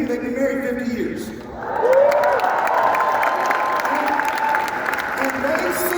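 An audience at a Winterfest gathering breaks into sustained applause mixed with some cheering, swelling after a brief lull and continuing steadily, with a voice speaking over the clapping at the start.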